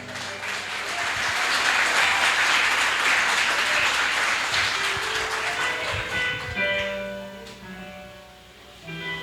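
A congregation at a men's church congress applauds enthusiastically, a thick wash of clapping and cheering that swells, then thins as a sustained tone and scattered claps remain.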